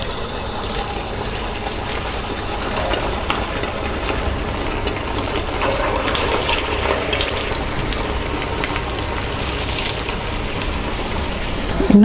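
Potato rava cutlets fry in hot oil, making a continuous loud sizzling hiss with constant crackle that fills the whole stretch.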